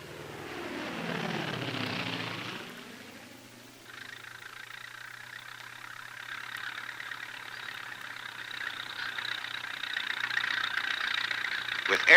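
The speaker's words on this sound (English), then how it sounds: "Air tankers are used to keep the crew from being surrounded." Air tanker fire bombers, F7F Tigercat and TBM aircraft, flying over a wildfire in a USFS training film: a propeller engine drone sweeps past, then a steady engine roar builds, with narration over it.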